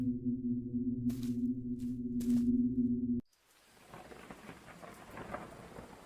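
In a video game, a low rumbling drone with a few sharp crackles gives way abruptly to steady rainfall with distant thunder rolling underneath.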